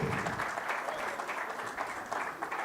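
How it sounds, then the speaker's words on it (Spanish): Audience applause at the close of a talk at the Maizar 2025 maize industry congress, steady dense clapping sustained throughout, fairly distant, with no voices over it. "Fuerte el aplauso, claro que sí."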